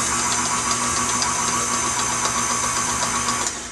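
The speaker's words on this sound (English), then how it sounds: "You'll hear your mixer starting to struggle a little bit." An electric stand mixer labours through thick cookie dough in a country kitchen, giving a steady, loud motor drone with a rhythmic mechanical rattle and no talking.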